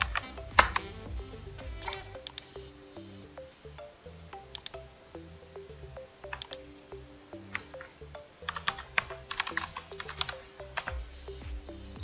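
Quick, irregular clicks of fingers typing on a computer keyboard while entering text in Photoshop, sounding close over steady background music.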